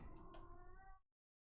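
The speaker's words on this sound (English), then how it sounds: "Are you meowing again?" A pet cat gives a single close, fairly loud meow lasting about a second in an otherwise quiet room, with no talking over it.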